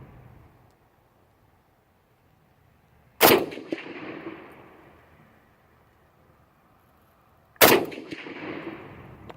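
Two sharp rifle shots from an old, used Romanian SKS with a worn barrel, fired outdoors at a backstop, several seconds apart, each followed by a long rolling echo.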